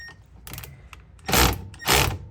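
Wrench loosening tight bolts on the back side of a brake caliper on a 2010 Honda CR-V rear wheel assembly, a few soft clicks and then two loud, harsh bursts of straining metal close by.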